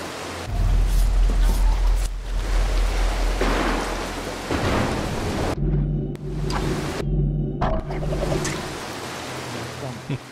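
Thunderstorm in the stealth game Mark of the Ninja, with steady heavy rain and deep rolling thunder rumbles filling the scene, loud and continuous, with brief drops where the storm noise cuts away and low game tones hum.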